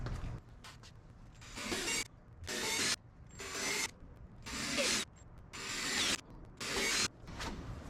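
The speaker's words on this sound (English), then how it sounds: "I'm going to drill these mounting holes so that we can get this bolted onto the clamshell" A drill whirs in repeated bursts of about a second each, evenly spaced, drilling mounting holes in an Ultima RS car part, with grinding, scraping texture between pauses.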